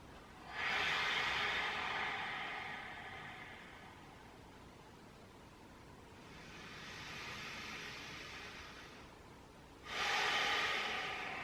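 Slow, deep breaths taken during a guided mindfulness exercise, a close airy inhale, a softer longer exhale, then another strong inhale, quiet and unhurried with no talking.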